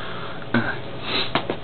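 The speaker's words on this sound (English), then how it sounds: "That's why I have the sniffles and stuff." A person sniffles, with a few short, sharp nasal sniffs close to the mic over a constant background hiss.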